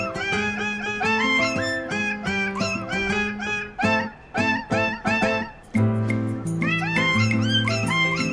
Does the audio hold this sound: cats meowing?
yes